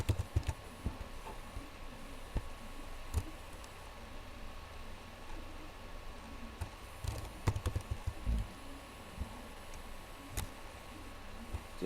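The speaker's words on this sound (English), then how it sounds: "Okay, let me type a school, for example." A school name being typed on a computer keyboard, irregular bursts of light key clicks with a few louder taps, close and quiet over faint room hiss, no speech.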